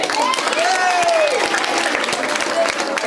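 Steady clapping from a school crowd at an anti-drug event fills the whole stretch, dense and continuous, with a bright whistle-like tone sliding through early on.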